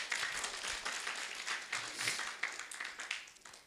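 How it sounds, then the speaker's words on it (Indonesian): Congregation applauding during a Sunday worship service at a GBI church in Jember, a steady crowd of handclaps filling the room at moderate level, with no talk over it. "Tuh konon tepuk tangan buat Tuhan."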